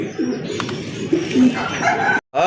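Soft, low pigeon coos repeat a few times close by, over a steady background murmur, with a brief cut near the end.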